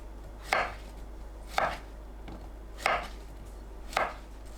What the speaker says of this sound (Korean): 길게 반 가르고 큼직하게 비껴 썰어주세요.